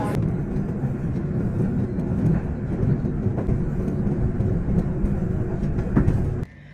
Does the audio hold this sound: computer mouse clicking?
no